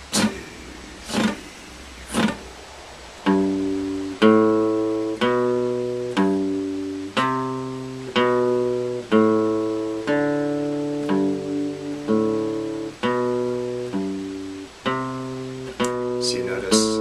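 Plucked string instrument, likely banjo, practising a short melodic phrase of single notes moving across strings, looped over and over at a steady, moderate tempo; notes ring clearly and close, with a few brief counted words at the start.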